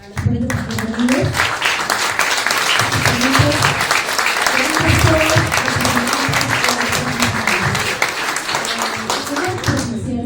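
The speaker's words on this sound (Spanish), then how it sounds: "Un fuertísimo aplauso, por favor, a las ponentes que han venido." An audience at a tribute event applauds its speakers with loud, dense, sustained clapping, while voices and cheering murmur underneath throughout.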